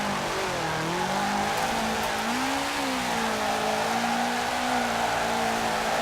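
A 2005 Subaru WRX STI drift build in Forza Horizon 4 holds a steady high-revving engine note through a long corner, its pitch wavering and rising, with continuous tire hiss throughout and no voices.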